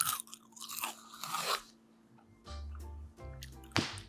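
Crispy American snack food crunches loudly up close in a few distinct bites and chews, with quiet gaps between.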